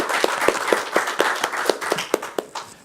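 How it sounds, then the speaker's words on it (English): A small conference audience applauds the presenters with sparse, distinct hand claps in a steady rhythm, fairly close and moderately loud, with no talking over it. "I would ask for a big applause for all the presenters and Halil."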